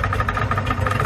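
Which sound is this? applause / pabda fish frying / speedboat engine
speedboat engine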